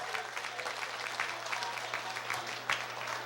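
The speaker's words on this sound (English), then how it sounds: "Give them a round of applause." A political gathering audience gives a round of applause for two honorable members, a steady, fairly faint crackle of many hands clapping without a break.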